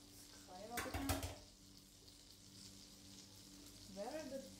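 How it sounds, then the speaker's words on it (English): Pasta ingredients sizzle steadily in a hot pan, with a louder burst of frying as something is added, then a quieter crackle and a brief voice near the end. "Oh my god, it's sizzling."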